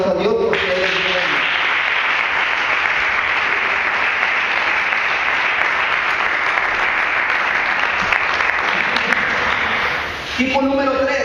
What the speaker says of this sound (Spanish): Dale un fuerte aplauso a Dios porque Él es bueno